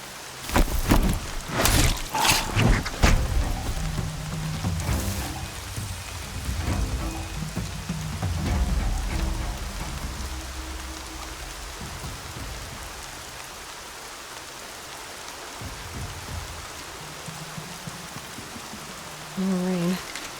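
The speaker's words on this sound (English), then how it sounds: "More rain. My boots will get damp." Steady rain pours down in the video game Horizon Zero Dawn, a dense hiss with heavier patter and a few loud thumps early on, continuing under faint tonal game sounds throughout.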